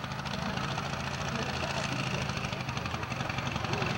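A 1969 John Deere pulling tractor at a 1988 tractor pull in Laurel, Delaware, its engine giving a steady loud low rumble throughout, with a crowd and announcer-style talk over it.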